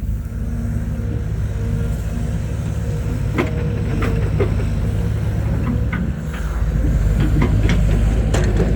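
A XCMG 135B excavator works a field, its steady low diesel drone running throughout with intermittent metallic clanks and knocks of the machine and bucket, no talk.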